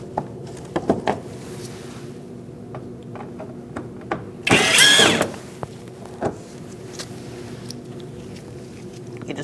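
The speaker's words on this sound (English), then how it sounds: "Using a T15 Torx bit, we are going to remove our Torx bit bolts" A power drill driving a T15 Torx bit to remove Torx bolts near the windshield washer reservoir of a 2016-2019 Chevrolet Cruze gives one brief, loud whir amid scattered faint clicks and clunks.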